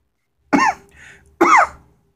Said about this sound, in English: You are the reason why I have a cough.